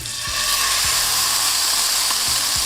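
A steak sears in a hot, oiled pan, producing a loud, steady hiss and sizzle up close with a few low knocks, and no talking.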